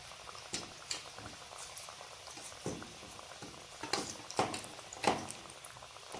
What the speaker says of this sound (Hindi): तो अब हम इसको फ्राई करते हैं।